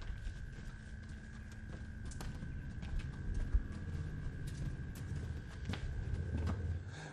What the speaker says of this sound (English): Bill, this is one of our young horses.